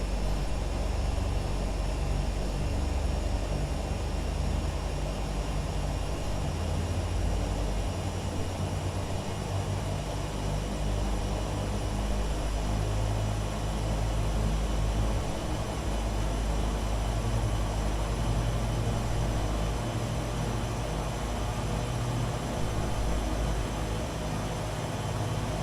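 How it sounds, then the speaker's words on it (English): RealAir Turbine Duke turboprop engines in a flight simulator, running up slowly toward about 1900 RPM on the props: a steady, loud, droning engine roar with a low rumble, unbroken throughout. "we're going to bring the power up slowly to about 1900 RPMs on our props"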